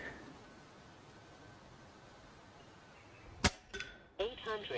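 A Hatsan Factor QE 5.5mm PCP air rifle fires once, giving a sharp, close crack that stands out against a steady background hiss. A couple of smaller knocks and rustles follow shortly after.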